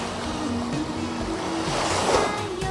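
Summer sea surf washing in steadily, a broad continuous roar of breaking waves close by, fairly loud and unbroken, with no voices.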